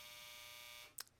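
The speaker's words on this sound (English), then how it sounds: "there goes a dryer, sorry about that" A clothes dryer's electronic buzzer sounds as a steady, loud, high-pitched tone held for most of a second, then cuts off, leaving a couple of brief faint clicks.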